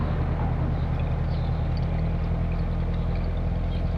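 A 2005 Volvo S60 2.0T engine runs steadily at idle after an engine flush is added during a service, giving a constant low rumble with a deep hum throughout.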